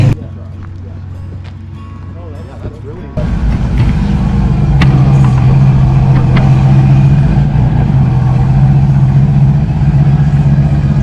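A Ford Falcon fitted with a 430-inch Windsor engine starts up partway through and settles into a loud, throbbing rumble that holds steady close by, with people talking over it.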